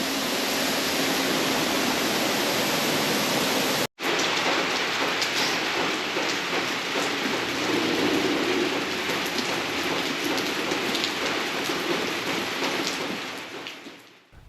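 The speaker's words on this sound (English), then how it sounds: "And the waterfall right next to me as well." Steady, dense roar of a waterfall mixed with rain falling close by at a sanctuary in Colombia, loud and continuous, with a brief dropout near four seconds and fading at the end; no talking.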